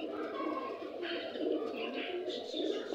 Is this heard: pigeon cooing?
yes